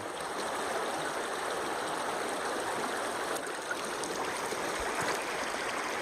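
A creek flows steadily, a continuous soft rush and burble of water with no voices.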